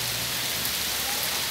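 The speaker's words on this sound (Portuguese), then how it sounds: "Olha que chuva maravilhosa." Heavy rain pours down steadily as a dense, continuous hiss of drops on surfaces, loud and close, with no talking.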